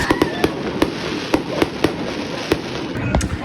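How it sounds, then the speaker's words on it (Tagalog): Fireworks burst in a quick irregular series of sharp cracks and pops, about a dozen in three seconds, over a continuous outdoor rumble and hiss, fairly close and with no talking. "habang nagpa-fireworks niyan si Bebo, parang wow!"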